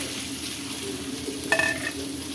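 Onions sizzle steadily in a hot pan with curry leaves for a Kerala-style ivy gourd curry, a soft continuous frying hiss, with a brief metallic scrape of stirring partway through.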